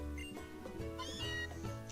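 Meowth, the cat Pokémon, meows in Pokémon Sun: a short, faint synthesized cry with warbling tonal calls, heard alone.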